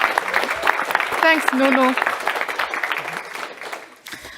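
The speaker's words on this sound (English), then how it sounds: "Roaring applause." Applause at a startup demo day as a speaker takes the stage, steady clapping from the audience with a short spoken thanks over it, fading out near the end.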